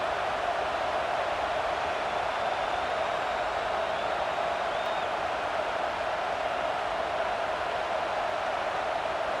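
Steady stadium crowd roar in the College Football 26 video game, a constant wash of noise with no distinct cheers or peaks, at moderate level.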